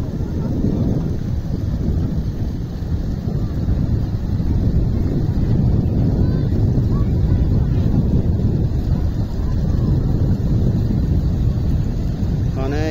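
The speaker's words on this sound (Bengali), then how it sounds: "অনেক ঠান্ডা বাতাস।" Cold wind blowing by a river busy with boats, a steady low roaring rush with buffeting against the microphone, loud and continuous throughout.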